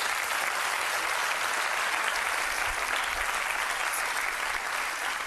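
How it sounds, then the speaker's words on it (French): Studio audience of a French television game show applauding a contestant, a steady even roar of clapping that fills the whole span at moderate level, no voices on top. "Bien, on vous applaudit."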